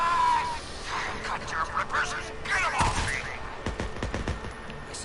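Sniper rifle fire in the video game Days Gone, heard as several sharp cracks and thuds scattered through a noisy game soundtrack.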